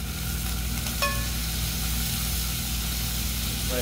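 Butter, capers and fresh lemon juice sizzling in a pan for flounder, a steady soft hiss with a low background hum and a sharp clink partway through.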